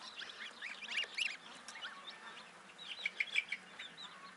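Young chicks under treatment for splayed legs give faint, high, scattered peeps in short bursts against a quiet background.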